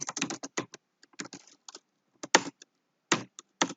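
Keys clack on a computer keyboard as code is written, bursts of quick taps broken by short silences, near and fairly quiet, with no voices.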